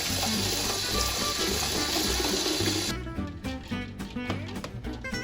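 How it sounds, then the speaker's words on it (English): Cold water runs steadily into a pot of eggs, then breaks into splashing, uneven pours and drips partway through; no talking. "So now we're going to add our cold water."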